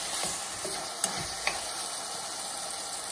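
Onions with salt and turmeric for Telangana country chicken curry hiss and sizzle continuously in a pan, with a couple of sharp spatula taps and scrapes, close and moderately quiet.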